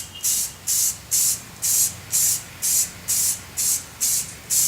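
Black spray paint hisses onto an air mover in nine short, evenly spaced bursts, each about a third of a second long with brief gaps between, close and clear with no talking.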